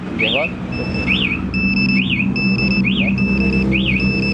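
A motorcycle alarm armed by a single remote press gives a repeating rising-falling electronic chirp with a steady beeping tone, cycling about once a second close by over engine-like rumble and background noise.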